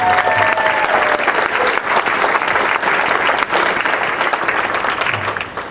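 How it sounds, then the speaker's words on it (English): At a life celebration in Albany, a crowd claps in a long, loud, sustained round of applause that thins slightly toward the end. "So give Team Leslie a big round of applause."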